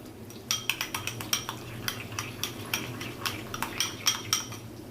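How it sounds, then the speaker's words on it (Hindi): Spoon stirring yogurt into mint chutney in a bowl, a close series of quick metallic clinks and scrapes in an irregular rhythm over a low background hum, with no talk. "इसको अच्छे से हम इसके अंदर मिक्स कर लेंगे"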